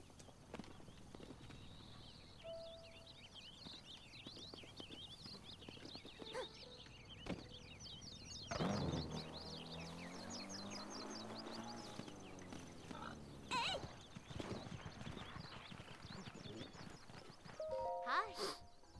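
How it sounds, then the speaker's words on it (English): In the video game Legend of Linkle, a horse carrying a non-player character clip-clops past with hoof beats and a brief whinny, set among game music, chimes and bird-like effects, with a voice talking over it. "NPC on a horse."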